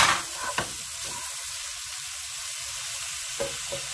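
Broccoli fries with shrimp in a hot pan in a garlic-sauce Chinese dish, giving a loud continuous sizzle with a few brief clatters and stirring bursts near the start and end, no talking.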